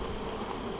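Honey bees drone steadily at a beehive of stacked boxes, a dense, even buzzing that fills the short moment.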